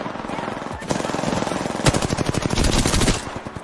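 Rapid automatic gunfire from a battle royale video game, loud and continuous, breaking into dense bursts of closely spaced shots that run for several seconds.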